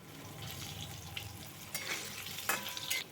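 Potatoes frying in oil over a medium flame for a katla fish curry, a soft steady sizzle with a few brief scraping stirs, no voices.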